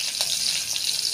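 Whole spices, including cinnamon, fry in hot oil with onions for tempering, a close, steady crackling sizzle with faint stirring over about a second.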